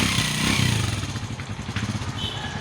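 A motorcycle rides by close at hand, its engine a rough, throbbing rumble with some clatter, steady and fairly loud, with no talk over it.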